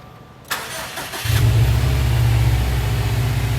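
A Subaru S209 turbo engine cranks briefly, fires and settles into a loud, steady low idle close by, with no talk.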